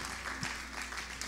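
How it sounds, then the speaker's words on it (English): A church congregation claps hands during worship, a steady wash of applause at moderate level, continuing throughout the brief moment with no speech over it. "Come and celebrate him with a clap of hands."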